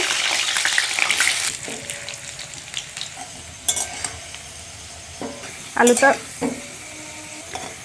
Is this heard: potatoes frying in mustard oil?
yes